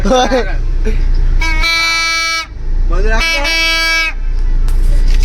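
A car horn blares in two long, loud honks separated by a short gap, with people shouting and talking over and between the blasts.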